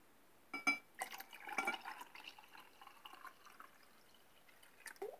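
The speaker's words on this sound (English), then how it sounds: "Ilalagay na natin yung water dito." Water is poured into a glass with coffee while making dalgona coffee, giving a few close, faint splashes and trickles in short irregular bursts separated by quiet gaps.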